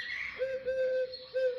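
Turtle dove cooing in the morning, three soft sustained hooting notes at an even pitch, fairly faint and distant, with no talk.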